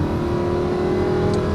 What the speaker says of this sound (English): Honestly, this is one of the loudest stock sounding cars I've probably ever been in.